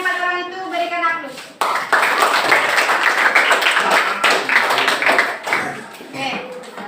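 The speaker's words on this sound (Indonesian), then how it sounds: "Untuk yang 4 orang itu berikan aplaus." Students in a classroom give a round of applause for four classmates, dense clapping that starts abruptly after a teacher's voice and keeps going steadily, loud and close, with voices mixed in.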